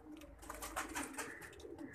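Soft, low pigeon coos repeat through the clip over a busy background of other bird chatter and noise, fairly close.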